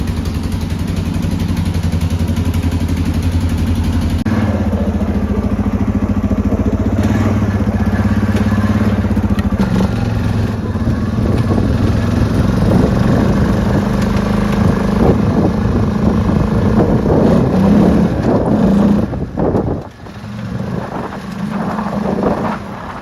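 A Suzuki Vinson 500 4x4 ATV idling to warm up on a cold January day in Alaska, a steady low engine rumble that holds evenly throughout, close and loud, with a slight dip near the end.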